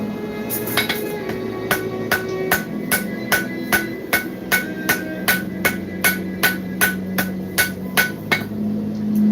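Steady hammer blows ring out on hot steel while an axe is forge welded, about twenty sharp metallic strikes in an even rhythm, close and loud, over a low forge roar.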